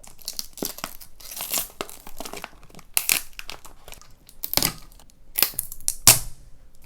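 Cured resin being torn off the sides of a photo stand mold, close crinkly tearing and crackling in irregular pulls, with a few sharper rips toward the end and no talk.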